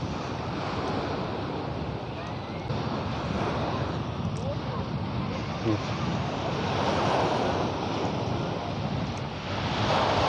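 Surf breaking steadily on a clear-water sandy beach at Sai Kaew, with constant wind buffeting the microphone; a continuous broadband wash, loud and close, with no distinct individual wave crashes standing out.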